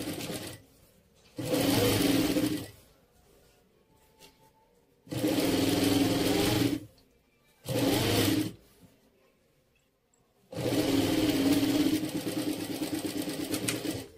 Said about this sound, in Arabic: ونعاود نخيط بهذه الطريقه هذه اللي امامنا